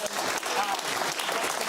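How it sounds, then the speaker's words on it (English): Studio audience applauding comedian Louisa, a short steady burst of dense clapping with faint voices mixed in. "Big round of applause, please, Louisa."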